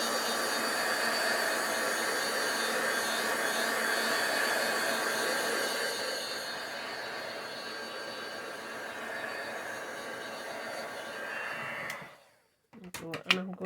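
Heat tool blowing air to dry ink on a stamped bauble, a steady close whooshing roar that softens partway, then cuts off, followed by brief handling noises.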